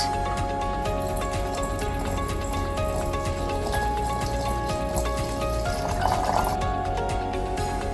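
Apple cider pours through a funnel into a container, a steady dense liquid rush and gurgle that runs continuously and loud, close by, with a slight rise in bubbling near the end.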